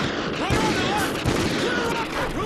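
Gunfire in the Call of Duty: Ghosts shooter during a breach, a dense burst of shots and booms mixed with game effects and men's radio chatter.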